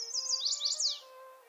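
Warbler song at a bird sanctuary, a quick run of high, bright chirping trills heard near and alone for about a second over a faint tonal background.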